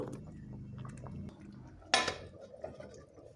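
A metal lid set onto a pot of spiced meat curry, one sharp clink midway after quiet shuffling kitchen sounds.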